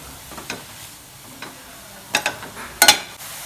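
Carrot, onion and egg sauté in ghee in a pan with a soft, steady sizzle, broken by a few sharp clinks and scrapes of a stirring utensil, with no talking.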